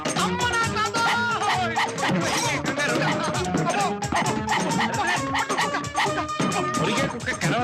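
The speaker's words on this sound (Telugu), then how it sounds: "కుక్కరా బాబు, కుక్క" A dog yips, barks and whimpers in an excited, steady run over busy film audio, with voices and music mixed underneath.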